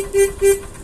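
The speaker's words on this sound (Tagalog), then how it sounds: "May busina na." Two short beeps from a motorcycle horn, quick and close, the second following right after the first.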